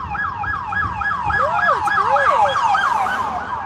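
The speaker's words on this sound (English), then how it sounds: "Whoop, whoop, that's the sound of the police." A rapid wailing emergency siren cycles quickly up and down in repeated yelps, with a second siren tone weaving underneath, moderately loud over road noise.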